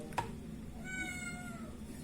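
A house cat gives a single short meow of moderate loudness over a faint, steady background hum.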